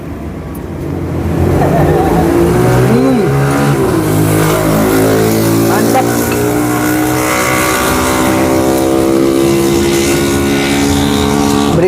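Constant roadside traffic roar with motorcycles revving and passing close by, loud throughout, while a person briefly speaks over it.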